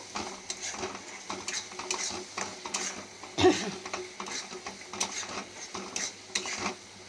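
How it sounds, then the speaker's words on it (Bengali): Crab curry stirred in a pan after turmeric goes in, repeated scraping and clinking of the spoon against metal over a light sizzle, with one louder knock midway, close and uneven in rhythm, no talking. "হলুদ দিয়ে আমি কিন্তু এটা ভালো করে একটু নাড়াচাড়া করব"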